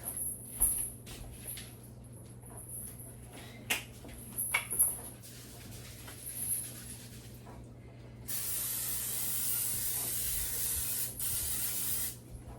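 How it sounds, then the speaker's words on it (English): Cooking spray hisses into a crock pot in one steady, close burst lasting several seconds, preceded by quieter handling clicks and rustles. "the first thing I want to do is spray my crock pot"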